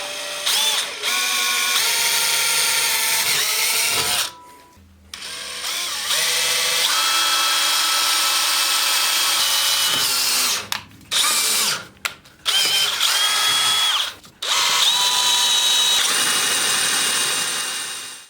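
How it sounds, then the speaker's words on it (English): A power drill whines steadily at high speed while drilling a pilot hole through metal, pausing briefly several times and revving up again, loud and close with no talking. "we're just going to try to drill a pilot hole on this thing"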